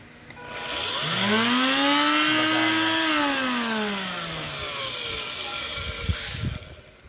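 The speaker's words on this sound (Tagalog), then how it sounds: "Itong vacuum nito ay Easy Home. Pero itong vacuum niya gumagana." Easy Home 2-in-1 cordless stick vacuum motor whirring up to speed, a steady rising and falling whine held for several seconds, then cutting off with a few clicks near the end.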